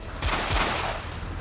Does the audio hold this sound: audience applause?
no